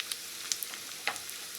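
Onions with fried cashews and raisins sizzle in a pan of oil for a vegetable stew garnish, producing a brief, fairly soft hiss dotted with sharp crackling pops, and no voices.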